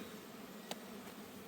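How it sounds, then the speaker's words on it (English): Honey bees around an open hive give off a faint, low buzzing hum, with a couple of brief louder passes close by. "Slowly to get the bees out of the way."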